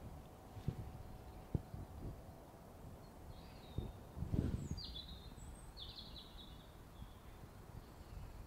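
Scattered bird chirps and short calls ring out in the middle distance over a quiet outdoor hush, with a few soft thumps and rustles nearby.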